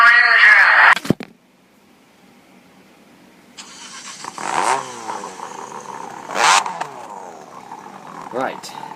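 A race car engine in an ARCA racing video game fires up after a short silence, then revs in repeated surges and swells, loud and close, with a voice talking over part of it.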